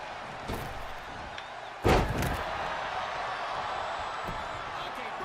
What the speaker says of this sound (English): just showing off now before she slams Toni Storm down